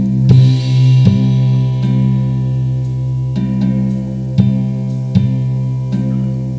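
Unmixed drums recorded through an acoustic guitar: dull, boomy hits set off sympathetic ringing in the guitar strings, giving a steady droning hum punctuated by irregular thumps, with no voices.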